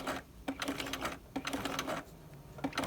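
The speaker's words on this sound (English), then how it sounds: "we're going to sew until we get to the corner" A sewing machine stitches a facing and lining unit toward a corner, its needle chattering in quick rhythmic bursts with brief pauses between runs, close and clear.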